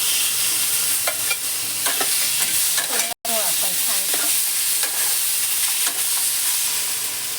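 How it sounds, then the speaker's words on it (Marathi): Tomato and turmeric sizzle with curry leaves in a pan for upma, a steady broadband frying hiss broken by scraping stir strokes, close and loud with a brief dropout midway and no talk. "आता चांगलं परतून घ्यायचं आपण"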